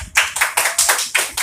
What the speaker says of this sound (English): give her a clap in it,